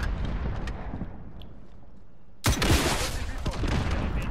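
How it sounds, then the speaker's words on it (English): In Call of Duty: Modern Warfare, an RPG rocket launches and bursts into a loud, sudden explosion that cuts through quieter game noise and rolls on as crackling blast debris. "RPG."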